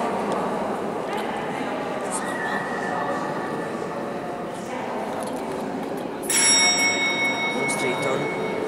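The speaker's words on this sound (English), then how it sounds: "So when the bell rings, you can start." A bright bell rings out clearly near the end, sustained and ringing over a constant rumbling background of chatter and machinery noise.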